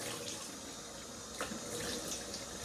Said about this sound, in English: Put some hot water on my face.